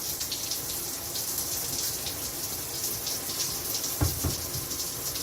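Water from a tap runs steadily during a shower with body wash, a constant close hiss and splash at even level, with a couple of brief low knocks near the end and no speech.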